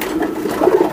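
A racing pigeon, a lively female, gives soft, throaty coos while being held in the hand, close and fairly loud, with no speech over it.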